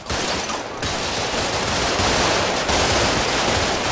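Sustained gunfire fills Combat Mission: Shock Force, dense rapid bursts of automatic fire layered together into a loud continuous roar with no gaps and no voices.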